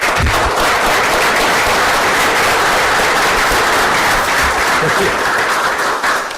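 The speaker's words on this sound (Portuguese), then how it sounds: "Uma salva de palmas, por favor." Sustained, loud applause from a debate audience fills the whole stretch, a dense steady wash of clapping with scattered sharper claps and no pauses.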